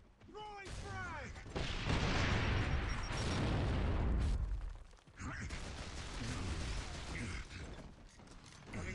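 A frag grenade blows up in a video game as a loud, broad roaring blast lasting a few seconds, followed by lingering rumble, with voices talking around it.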